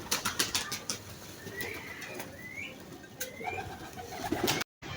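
Pigeons coo softly amid faint wing flutters and scattered clicks while being fed grain, with a sharp tapping sequence at the start and a brief dropout near the end.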